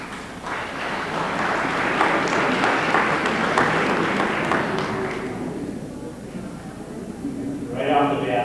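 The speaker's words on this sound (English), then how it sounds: "Please refrain from clapping" An audience at a public forum claps in a sustained burst of applause that fades after several seconds, with a voice speaking over the end.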